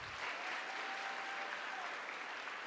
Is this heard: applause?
yes